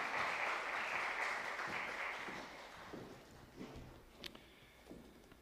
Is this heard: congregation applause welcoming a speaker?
yes